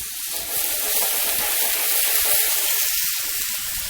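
Fish cooking in a hot pan with a splash of water added: a continuous broad steamy hiss and sizzle, close and fairly loud, swelling slightly mid-way with no voices.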